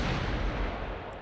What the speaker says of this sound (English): there's an explosion so loud that I think my eardrums are blown out